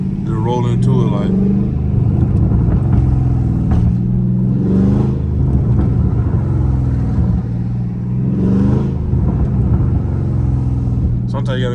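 A Dodge Charger Scat Pack engine runs loud and close with a deep steady rumble that swells in repeated rev surges, with talk heard over it.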